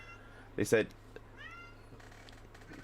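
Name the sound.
cat meowing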